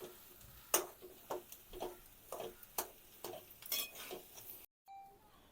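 Potato bhaji for a dosa filling stirred in a pan, a series of regular spoon-on-pan taps and scrapes about every half second, close but quiet, ending abruptly.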